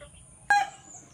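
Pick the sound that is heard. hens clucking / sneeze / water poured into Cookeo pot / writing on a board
hens clucking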